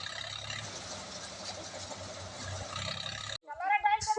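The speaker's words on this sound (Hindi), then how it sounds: "मशीन में जो धान बचा है वो निकल जाने के बाद ट्रैक्टर को बंद कर दिया जाएगा।" A tractor engine drives a paddy threshing machine, a steady mid-low mechanical drone running continuously for over three seconds before cutting off abruptly, followed by a short burst of nearby speech.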